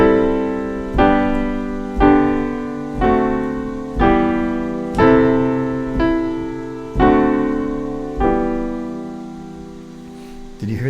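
The hymn tune Faith of Our Fathers played slowly on piano, a series of full chords struck about once a second, ending on a held, unresolved-sounding deceptive cadence.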